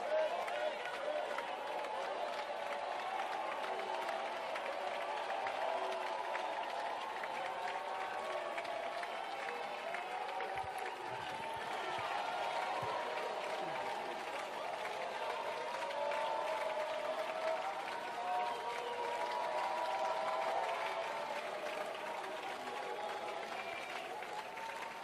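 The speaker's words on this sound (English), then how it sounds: "Thank you for the applause." Members of South Africa's parliament applaud during a heated debate, sustained crowd clapping mixed with murmuring voices and commotion, a large room full of sound for a long stretch.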